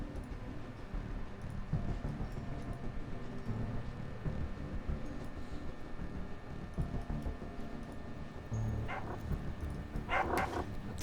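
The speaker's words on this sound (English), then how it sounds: "The dogs are still fighting." Dogs fighting in the video game Underrail, a low, continuous scuffle of growls and snarling with a few sharper yelps and barks breaking out near the end, moderately loud against game background noise.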